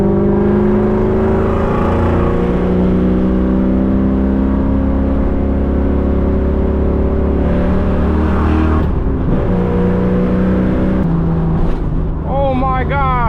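Straight-piped 2003 Ford Mustang GT V8 roaring loudly from inside the car while driving, a sustained engine drone rising and falling with revs and shifts, with a brief voice near the end.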